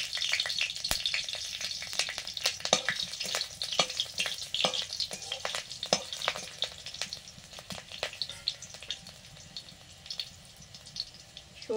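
Green chillies and black cumin spit and crackle in hot mustard oil, a busy sizzling fry with sharp pops and stirring scrapes scattered throughout, close and steady with no talking.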